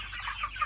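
A large farmyard flock of over a hundred chickens clucks at feeding time, a brief, busy chorus of overlapping clucks heard close and steady.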